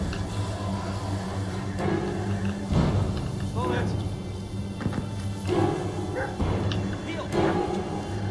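Bullet the dog from the Blair Witch video game gives scattered barks, yips and whimpers over a low rumbling ambience, with muffled thuds and a voice speaking at times.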